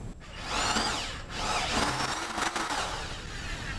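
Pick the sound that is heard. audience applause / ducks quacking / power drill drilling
power drill drilling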